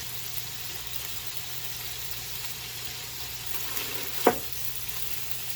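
Sausage frying in a pan until crisp and browned gives a steady, even sizzle with no talk, and one brief sharper crackle or pop stands out near the end.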